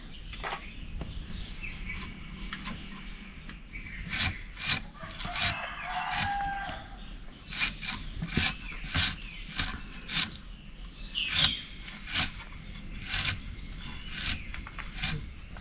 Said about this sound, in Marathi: कांदा कापून घेते.